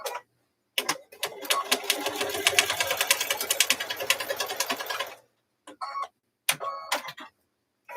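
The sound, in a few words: sewing machine stitching a pot holder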